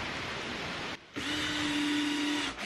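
A power drill bores holes into the end of a wooden middle runner for a queen-size bed frame, a steady close whirring that drops out briefly and then resumes with a sustained droning tone.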